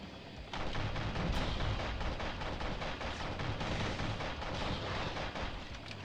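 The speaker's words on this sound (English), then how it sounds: "Homing missiles whenever reloading." Homing missiles firing from a mech in Heavy Storm Shadow, a dense, continuous barrage of rapid thudding launches and blasts that starts abruptly and holds loud and steady throughout.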